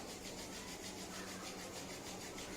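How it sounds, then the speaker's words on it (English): Palms rubbing briskly against each other in a steady, continuous friction hiss during a beginner yoga session, close and even, with no talking. "Rub your palms over each other"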